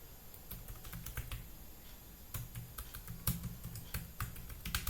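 Typing a username on a computer keyboard: quiet, close keystrokes in irregular quick bursts with short pauses, with no talking.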